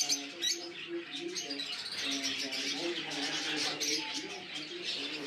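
Finches, mostly white crested finches, chirp in a bird farm aviary in Barisal, with dense, overlapping tweets and calls throughout and a person talking over them.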